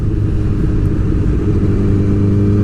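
Honda CBR 1000RR motorcycle engine while riding, a steady, loud, low rumbling drone with heavy wind-like roar, close and constant, with no talk.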